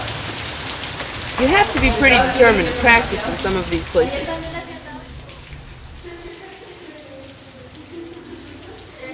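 Steady rain patters throughout during Hurricane Alex in Mexico in 2010, with someone talking over it for several seconds before the voice fades and the downpour continues on its own.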